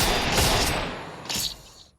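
Rapid video game gunfire, a close, loud burst of overlapping shots followed by a second short burst before it cuts off.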